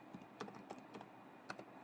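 Keys on a computer keyboard are tapped while writing Python code for a contact management program, with quiet, close, irregular clicks and a few sharper strikes.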